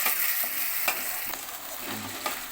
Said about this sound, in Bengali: এবার আমি মশলাটা ভালো করে কষে নেব